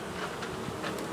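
Honey bees buzz around a hive entrance beside an upturned landing board, a continuous dense hum with individual insects rising and passing close, steady and with no talk.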